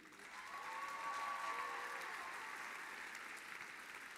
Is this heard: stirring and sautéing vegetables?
no